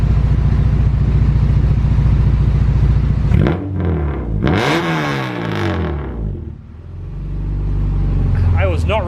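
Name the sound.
Acura Integra Type R engine revving, loud exhaust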